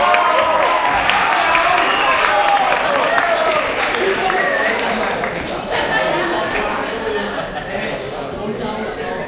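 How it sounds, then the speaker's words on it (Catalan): A graduation audience for vocational training cycles claps and cheers with scattered chatter and some laughter, loud at first and gradually thinning as the clapping dies down. "Un aplaudiment."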